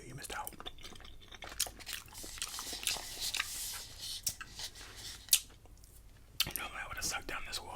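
Close, quiet chewing on birria ramen and egg rolls, with soft wet mouth sounds and scattered crunchy snaps and clicks, joined by low murmured speech.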